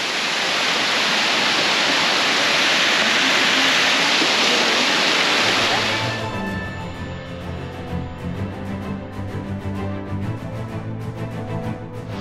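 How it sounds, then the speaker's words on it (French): Loud, steady roar of rushing water from waterfalls for about six seconds, then a quieter background with music-like tones replacing the broadband rush. "après avoir vu toutes ces belles cascades"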